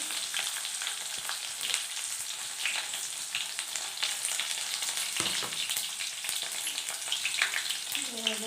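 Garlic and onion frying in oil for methi dal, making a dense, continuous crackling sizzle, fairly quiet, with an occasional stir.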